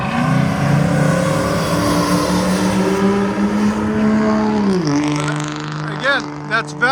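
LS3-swapped C5 Chevrolet Corvette with exhaust valves closed, a steady deep rumble that rises in pitch, then drops and settles near the end, with brief voices and chirps over it.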